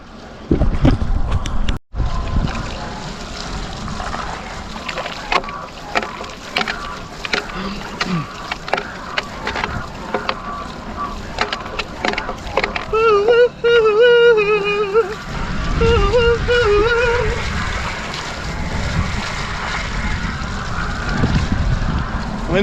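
Steady wind buffets the microphone while paddling a downwind board on Lake Erie, a continuous rushing roar with water splashes, knocks and brief voice sounds mixed in.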